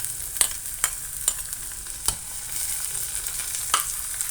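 Ginger and garlic frying in a pan for fish curry, a continuous close sizzle punctuated by about five sharp spatula scrapes and taps against the pan, with no talking.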